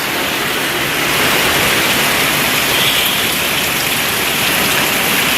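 Heavy rain falls steadily outdoors in a downpour, a loud, continuous wash of hiss and spatter close by, with no voices.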